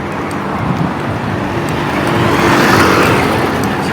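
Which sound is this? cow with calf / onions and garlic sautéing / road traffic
road traffic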